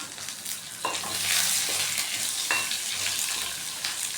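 Mustard seeds and chana dal sizzle and crackle steadily in hot oil while being stirred, a close, continuous hiss with a few sharper pops and scrapes throughout.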